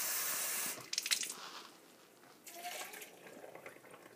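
A cup of water pours into a blender for a blended tube-feeding meal, a short burst of splashing liquid followed by softer trickling and gurgling, fairly close and alone.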